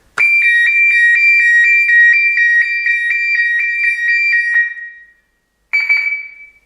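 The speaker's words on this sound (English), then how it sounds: "I can show you what the alarm system works like here now" A Honda snowblower's alarm system sounds a warning: a loud, steady electronic beep held for about four and a half seconds, then after a brief pause a second short beep starts.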